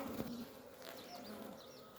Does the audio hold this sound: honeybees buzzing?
yes